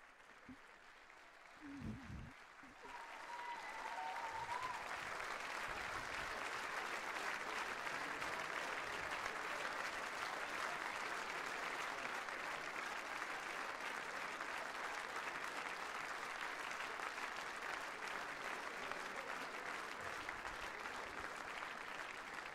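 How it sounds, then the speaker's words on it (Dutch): Warm applause greets the newly proclaimed carnival city prince of 2015, beginning with a brief lull and a few sounds before a large crowd breaks into steady, sustained clapping that continues evenly to the end. "door zo'n warm applaus natuurlijk"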